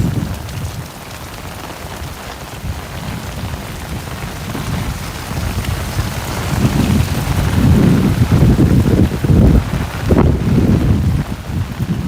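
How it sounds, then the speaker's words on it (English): A loud, steady downpour hammers down on a night street in Williamsburg, Brooklyn, swelling heavier toward the end, with deep rumbling underneath. "Yeah, it's pouring right now too. It's really coming down."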